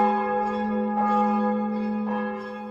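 A church bell in the Appalachian valley settlement of Abrams Gap tolls in a sustained, resonant hum, with fresh strikes landing roughly every second over the long ringing tail, loud and close with no voices.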